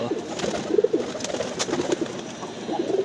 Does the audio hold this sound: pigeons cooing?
yes